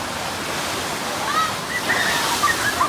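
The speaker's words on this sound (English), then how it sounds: "There's waterfalls coming down over the canyon wall." Waterfalls pour down a canyon wall into a pond at a Texas theme park, a steady broad rushing wash of falling water heard close and continuous.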